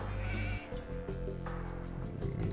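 Sheep bleating in the Age of Empires 2 strategy game, several loud drawn-out wavering bleats following one after another over steady game sound, with no talk.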